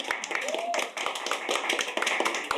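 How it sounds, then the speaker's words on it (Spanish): Audience applause for invited women guests at a talk event, a dense patter of claps with sharper individual taps, steady and fairly close, with a faint voice and a brief tone under it. "Aplausos para nuestras invitadas"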